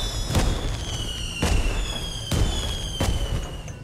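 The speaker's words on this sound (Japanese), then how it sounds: "花火がすごいな。" Fireworks in the game Identity V burst in four sharp booms spaced about a second apart over a steady background hum, with no voices.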